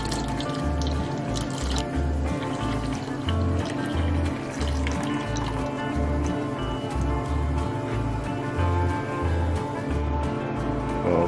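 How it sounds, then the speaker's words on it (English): Whole milk poured into a pot of chai tea brewing with turmeric and ginger, a continuous liquid pour with bubbling, dripping texture heard up close and loud throughout. "whole milk"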